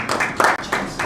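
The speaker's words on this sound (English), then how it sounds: "A round of applause for our Kamoru Usman." An audience claps for UFC welterweight champion Kamaru Usman, a short burst of dense, close applause with a steady rattle of many hands.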